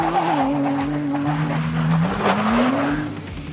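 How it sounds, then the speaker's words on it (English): A 3-liter twin-turbo V6 car engine making 418 horsepower revs steadily with a rising and falling whine, loud and close, sustained throughout. "Under the hood, you have a 3-liter twin turbo V6 that makes 418 horsepower"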